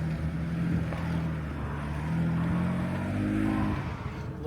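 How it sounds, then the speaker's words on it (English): An off-road vehicle crawls slowly along a rough, off-camber plateau trail, its engine a steady low rumbling drone with slight shifts in pitch as it works over the terrain, close and continuous without talk. "And now Emmett's going to drive us out."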